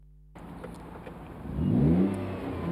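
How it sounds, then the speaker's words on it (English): Noble M10 sports car engine revving up, a rising throaty growl that swells after a quiet start, close and fairly loud, with no talk over it. "It's the Noble M10, absolute beauty."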